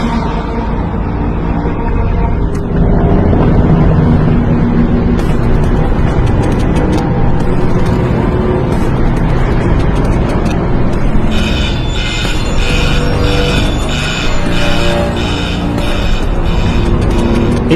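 Pumps evacuate air from a huge 800,000-cubic-foot vacuum chamber, a loud continuous mechanical rumble and drone with clattering and whirring layers that persist throughout.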